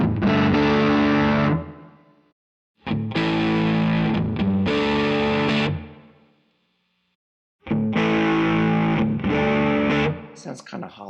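Electric guitar played through a Quad Cortex Dumble amp model on its overdrive channel into a 2-Rock EV cabinet, loud distorted chords rung out in three separate bursts with silent gaps between.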